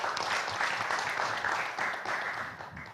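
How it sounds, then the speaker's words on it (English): Moderate audience applause at the Indonesia Economic Forum, a hall of people clapping evenly and fairly far off, holding steady before tapering at the end. "A big applause for that, Pa Sandy."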